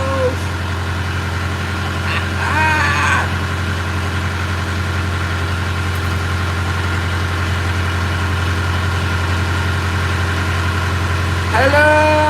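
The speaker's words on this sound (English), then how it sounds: "Welcome to the Loud Tractor Engine Noise Show." Loud tractor engine idling, a constant low, droning rumble with steady vibration throughout, while someone speaks briefly over it at the start and again near the end.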